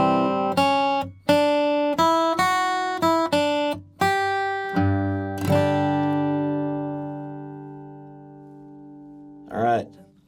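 Acoustic guitar playing measures 6 through 9 of a bluegrass tune: a quick run of clearly picked single notes and strums, then a sustained ring-out and a final struck note, heard close up.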